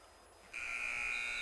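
At a high school basketball game, the arena buzzer sounds to end the third quarter, a loud sustained electronic tone that blares abruptly and holds steady over low crowd murmur.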